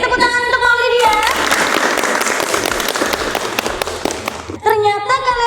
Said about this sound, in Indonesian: Beri tepuk tangan untuk Maulidia.